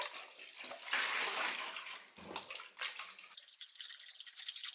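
Running water pours steadily from a tap while gluten dough is rinsed and kneaded in a basin of water, with splashing and dripping that swells and eases, close and fairly loud.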